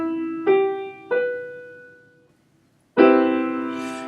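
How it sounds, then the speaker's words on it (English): Major seventh chord played on a keyboard instrument, two separate struck notes ringing and fading before the full chord sounds together loudly and sustains, with no talking. "A major 7th chord, or major 7th chord, sounds like this."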